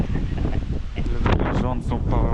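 Strong wind blows across a mountain pass on the Tour du Mont Blanc, roaring and buffeting the microphone steadily while a person talks over it.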